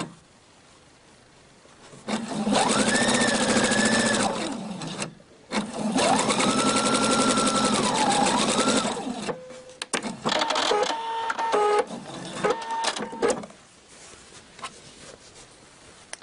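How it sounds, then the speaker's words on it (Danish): A Husqvarna Viking sewing machine stitches a thicker piping trim in two long, loud, steady whirring runs separated by a brief pause, then a stretch of lighter mechanical clicks and adjustments before quieting down. "Så fik vi syet den lidt tykkere tittekant på"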